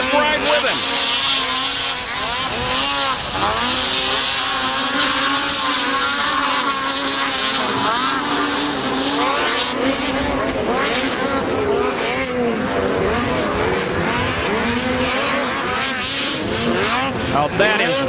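Snowmobiles racing in a snocross event, with engines whining and revving loudly and continuously, rising and falling in pitch as the machines pass. An announcer talks over the engine noise.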